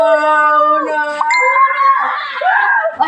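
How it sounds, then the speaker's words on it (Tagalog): Several dogs howl together up close and loud, their long wavering cries overlapping and sliding in pitch, with a brief clink partway through. "Grabe, ang dami aso."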